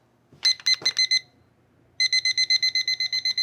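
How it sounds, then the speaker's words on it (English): Kitchen timer being set while cooking a holiday dinner, a quick run of sharp electronic beeps from button presses, a short pause, then a steady rapid series of alarm beeps, close and clear with no talk. "I've never made it before, so I am going to set a timer"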